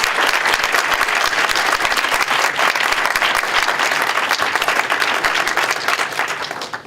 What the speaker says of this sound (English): I wonder if I could ask you to stand up, and if I could ask the audience to give them a round of applause.